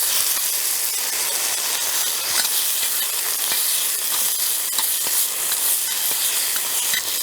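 Sliced luffa gourd sizzling steadily in a hot pan, a constant bright crackling hiss with small pops, fairly close and loud with no voices.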